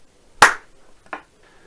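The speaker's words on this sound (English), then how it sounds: "Clapping, of course, also works." Hand claps used to sync audio tracks: one sharp, loud, close clap followed by a softer second clap, set against near silence.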